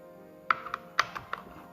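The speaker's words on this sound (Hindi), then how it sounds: "3 तो बैटरी हो गई है इंसर्ट" Three rechargeable 3.7 volt, 4200 mAh batteries pushed into an emergency LED flood light torch, a few sharp plastic clicks and taps spaced out over quiet, no talking.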